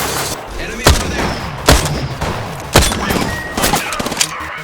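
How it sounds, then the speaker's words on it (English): Enemy gunfire in the Apex Legends video game: loud, close individual shots and short bursts crack out irregularly, roughly every second, over background game noise. "Enemies are shooting at me."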